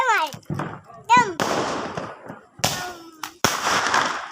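A double-shot Diwali firecracker goes off outdoors, several sharp close bangs spaced irregularly, each trailing into a brief crackle, with children's voices and talk heard between and over the bursts.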